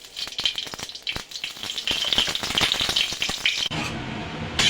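Ghee heating in a hot wok (kadai) for frying vermicelli crackles and sizzles up close, first with scattered sharp pops and then settling into a denser, steady sizzle.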